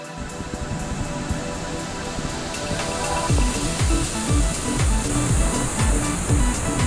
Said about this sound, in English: There's a strong current pushing you out to the waterfalls.